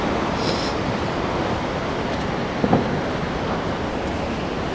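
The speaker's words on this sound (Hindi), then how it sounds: "हम इस नदी को देख नहीं पाएंगे क्योंकि बहुत अंधेरा हो गया है, सिर्फ हम आवाज़ से यहाँ पे सुन सकते हैं" A river rushes beneath the Bhim Pul bridge near Mana village at night as a steady, loud, unbroken roar of water, with a brief faint knock partway through.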